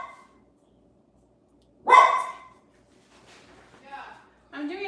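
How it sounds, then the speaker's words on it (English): A dog barks inside a house: one loud sharp bark, then quieter yips and whimpers, with a voice speaking nearby. "I'm doing a live and the dog is driving me insane."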